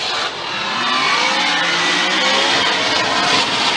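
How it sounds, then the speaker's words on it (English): Formula Drift tandem battle between a Nissan 370Z on hand-cooked tires and a supercharged V8 Infiniti G37, engines roaring at sustained high revs with tire squeal, loud and continuous throughout. "Chris Forsberg, hand-cooked tires, Nissan 370Z against the Maximum Attack supercharged V8 G37 of Charles."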